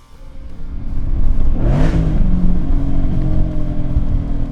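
A 670 hp Roush Stage 3 Mustang GT with a manual gearbox pulls hard from 2000 RPM, its engine note swelling loud and rising, with a sharp whooshing burst partway through and a sustained roar after.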